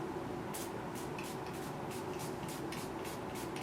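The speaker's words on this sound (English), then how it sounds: "I'll use this Milani Make It Last setting spray all over my face." A Milani Make It Last setting spray is misted over a face in a quick series of about nine soft, hissing pumps, steady in rhythm, over a low background hum.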